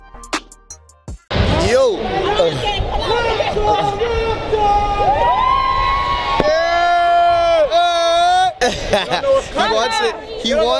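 Huge crowd at the Toronto Raptors championship parade near Nathan Phillips Square roaring and cheering loudly and continuously, with whoops, shouts and close voices over the babble.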